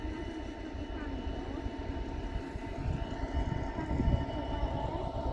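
Steady low rumble of a train, a continuous heavy mechanical drone with no clear beginning or end, moderately loud and fairly close.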